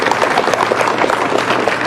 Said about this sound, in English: I'm glad everybody started the applause without prompting